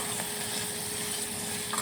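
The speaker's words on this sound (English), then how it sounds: "Nice hot frying pan there." Steady, close sizzling of onions frying in hot oil in a pan, a continuous crackling hiss with no talking.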